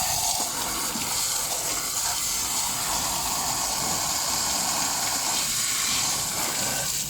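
Water sprays onto the suspension of a jacked-up Mitsubishi Lancer 9 to wash off dirt, a steady, close, broadband hiss and gush that runs unbroken throughout.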